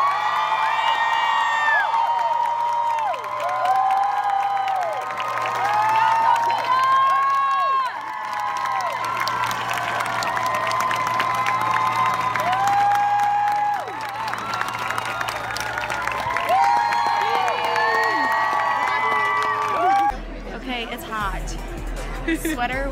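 A crowd at a Disney Channel holiday celebration taping cheers, whoops and applauds in a loud, continuous roar with high shouted voices. The noise shifts abruptly near the end.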